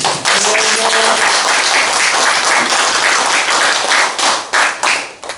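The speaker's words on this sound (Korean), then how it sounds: "여자분들 좋다고 박수 치는데" An audience claps for a Korean political comedy performance. The applause is loud and close, a dense burst of many hands that holds steady and then thins into scattered, tapering claps.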